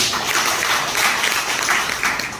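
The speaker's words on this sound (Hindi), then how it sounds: "तो आपके लिए जोरदार तालियां।" An audience at a Platinum Achiever business event in Gadchiroli bursts into sustained, dense applause, many hands clapping together in a loud, even wash that holds steady throughout.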